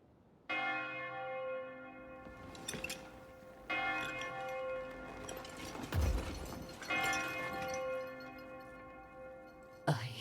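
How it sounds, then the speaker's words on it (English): Church-style bells toll in the video game Code Vein 2, several resonant strikes ringing out with long shimmering decays, each new peal swelling over the fading hum of the last. "I hear bells."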